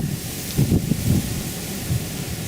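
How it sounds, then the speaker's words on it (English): Wind gusting across an open marsh during a deer hunt, a loud, steady rumbling buffet against the microphone that swells in a few gusts over a couple of seconds, with no voices. "The wind is blowing that direction right there"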